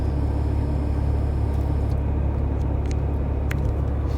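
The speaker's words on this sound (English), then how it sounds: "this traffic's not bad at all" Road traffic heard from inside a car, a steady low rumble of engine and tyres with a few faint higher clicks, no talking.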